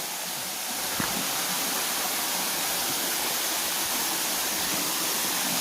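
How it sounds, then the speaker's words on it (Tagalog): The steady, broad roar of Sampalok Falls in Pangil, Laguna, water pounding into the plunge pool close by, continuous and unbroken with no voices. "Dito na po tayo sa pinaka pagsakan ng tubig"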